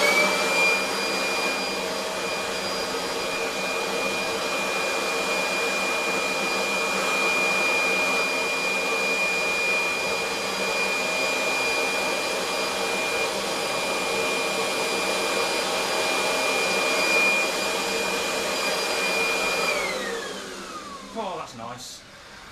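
A 1995 Kirby G4 upright vacuum cleaner runs in blower mode with a loud, steady motor whine and rushing air close by, holding constant for about twenty seconds before winding down and stopping.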